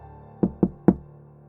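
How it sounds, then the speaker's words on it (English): Three firm, assertive knocks on a door, evenly spaced within about half a second. They are crisp and moderately close, with quiet around them. "Always 3 knocks on the door."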